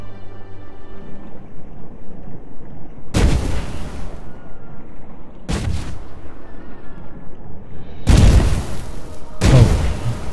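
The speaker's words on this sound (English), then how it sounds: "Mortar looks amazing." Mortar rounds firing in the water-physics crafting game Sea Of Craft: four loud, sharp booms at irregular intervals, each with a short rumbling tail, over a low ambient hum, and no talking.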